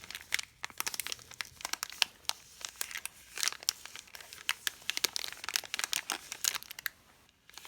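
An MRE flameless heater bag being folded over: a steady run of dense plastic crinkling and crumpling handled close to the microphone, with no talking.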